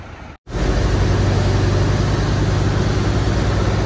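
A Peterbilt truck engine rumbling close by at a container port, a heavy low steady drone that cuts out briefly near the start and then runs continuously and loud.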